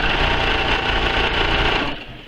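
Domestic sewing machine stitching through a quilt practice sandwich, a rapid steady mechanical whir that runs close and loud, easing off near the end.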